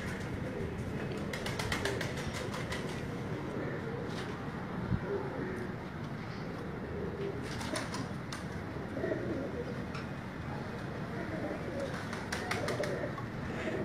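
High-flying pigeons coo softly and continuously at close range, with occasional faint wing flutters, under a steady background hum while people talk.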